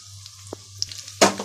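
Dried red chillies drop into hot oil as tempering for a roasted chana dal and coconut chutney. Small quiet ticks come first, then a sudden loud, close sizzling burst near the end.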